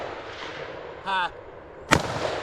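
A single sharp rifle shot from a Wolf T91 rings out alone at an outdoor shooting range during a run-and-gun course, preceded by a brief tonal beep or signal.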